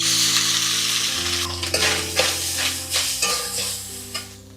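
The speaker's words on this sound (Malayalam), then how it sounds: "ഇനി ഇതിലേക്ക് നമ്മൾ നാളികേരം നല്ലോണം ചോക്ക വറക്കണം" Grated coconut roasting in a pan for Karkidakam laddu, a steady close sizzle broken by several scraping stirs, with no voices.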